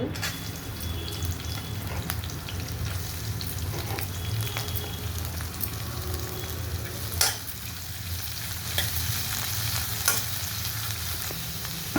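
Finely chopped onions fry in a pan with cashews and whole spices for paneer butter masala, making a continuous dense sizzle. Occasional stirring clinks and scrapes rise above it.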